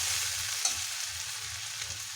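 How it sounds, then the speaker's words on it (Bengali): Sugar is stirred into a dalia mixture in a hot pan, giving a soft, steady sizzle with a light scraping stir running throughout, close and fairly quiet. "চিনি দেওয়ার পরে আমি একটু ভালোভাবে মিশিয়ে নিচ্ছি চিনিগুলোকে"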